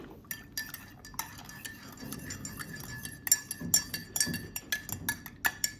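A spoon stirs iced coffee in a cup, making bright, irregular clinks and rattles of metal against the cup and ice, with quick taps that bunch closer together toward the end, and no talking.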